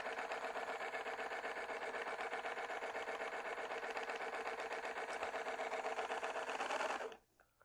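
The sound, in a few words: EEW Mini electric spinning wheel spinning yarn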